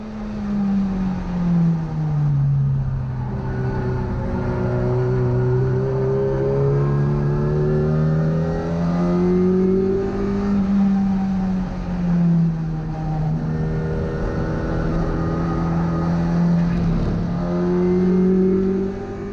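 A classic Mini races around the Brands Hatch circuit on a track day, its engine heard close and continuous from inside the car, rising and falling in pitch through gear changes and corners for the whole lap section.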